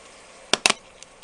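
Two sharp plastic clicks of glazed, glittery ornament halves snapping together by hand, close and crisp, followed by a faint tap a moment later.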